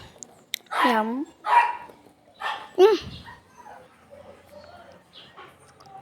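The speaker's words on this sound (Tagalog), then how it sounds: "May tumatahol na aso" A dog barks several times in a series of sharp, fairly close yelps, with quieter background sounds between the barks.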